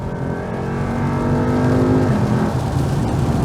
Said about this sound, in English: you just can't beat a naturally aspirated V8